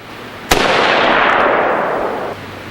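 An AR-15 rifle fitted with a Patriot Ordnance Factory (POF) 3-chamber muzzle brake fires a single sharp, loud close shot, followed by a long broad roaring echo that fades over about two seconds.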